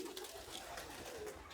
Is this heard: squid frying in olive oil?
no